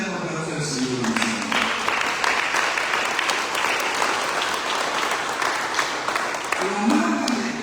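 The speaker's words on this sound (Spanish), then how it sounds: "¿Por qué no le damos aplauso al Señor?" A church congregation applauds together, a dense, sustained clapping that fills the room for several seconds while voices call out underneath.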